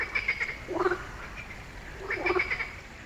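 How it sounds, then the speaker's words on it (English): Frogs croak beside a stream in Los Padres National Park, in two separate bursts of throaty, rattling calls a couple of seconds apart over a soft outdoor hiss. "you can hear the crickets and the frogs"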